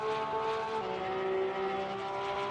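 A race car engine in a GT race on the Indianapolis circuit in a racing video game drones past with a sustained high whine that shifts pitch partway through, loud and close throughout.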